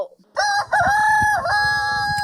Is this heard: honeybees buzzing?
no